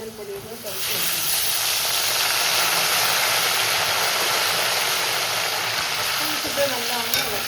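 Raw banana slices with turmeric frying in hot oil for Onam kaya upperi: after a brief quieter start, a loud, dense, continuous hiss of deep-frying fills the rest, with light stirring beneath.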